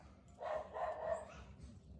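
Dogs bark in a few quick, yappy bursts at moderate distance, with some whimpering mixed in and no speech.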